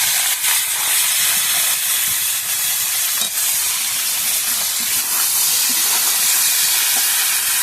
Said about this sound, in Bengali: মেখে রাখা ফুলকপিটা দিয়ে দেবো।